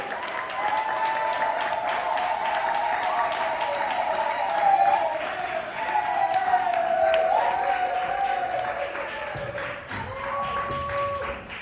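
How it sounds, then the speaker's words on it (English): Audience applause at a poetry slam during the Atlanta Spring Fling, sustained and steady for the whole stretch, with an MC's voice talking over it and a tonal hum running underneath. "Keep that applause going for your next part on the mic."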